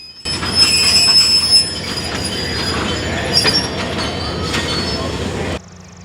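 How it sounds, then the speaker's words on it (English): A 1954 Alco RSD-5 diesel locomotive with a coach and cabooses rolls slowly to a stop, with rumbling wheels, clanks and high metallic squeals of braking, then the sound cuts off abruptly. "Chicago and Northwestern 1689 makes a stop with a coach car and cabooses"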